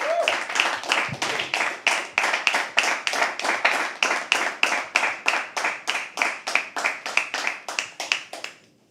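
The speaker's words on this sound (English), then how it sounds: "Keep clapping till he comes on stage." An audience at a live poetry open mic claps together in a steady, rhythmic beat, about three claps a second, loud and close, before stopping abruptly at the end.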